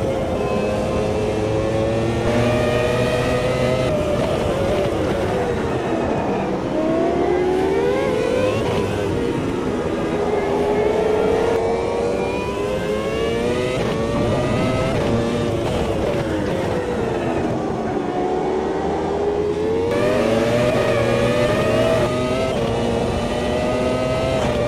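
An F1 car with a V10 engine in Automobilista 2, racing in Brazil, screams loudly and continuously, rising in pitch through the gears, dropping on repeated downshifts and climbing again under acceleration.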